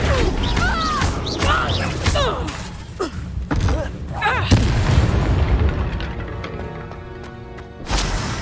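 Confringo explosion spell in the video game Hogwarts Legacy amid combat, with loud booms, cracking blasts and thuds in rapid succession, whooshing magic effects and scattered voices between hits, ending in a final sharp burst.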